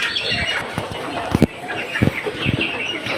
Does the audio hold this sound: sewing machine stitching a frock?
no